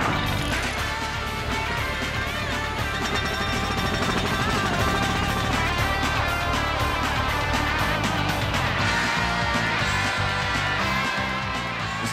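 Pneumatic rock drill running in a cold hard-rock mine, a loud continuous rapid hammering chatter with harsh metallic impacts, close and sustained throughout.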